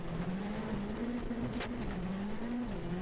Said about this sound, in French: Regardez ce qui se passe avec François Duval qui rate son virage